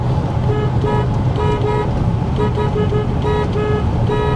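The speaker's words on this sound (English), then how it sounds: "The horn works. It's a little iffy, but the horn works." A V8 Ford Taurus SHO horn honks loudly and repeatedly in short, uneven toots, close by, with a steady engine or road hum beneath and no talk.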